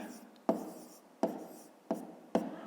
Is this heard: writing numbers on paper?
yes